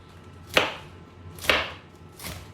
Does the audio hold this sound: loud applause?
no